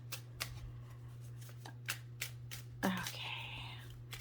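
A deck of tarot cards is shuffled up close in a few quick separate riffles and taps, ending in a longer rustling shuffle, over a quiet steady electrical hum.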